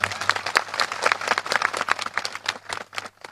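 A crowd at a Gujarat political rally for a speech by Chaitar Vasava claps loudly, a dense, uneven patter of many hands fairly close by that keeps going without a break and with no talk over it.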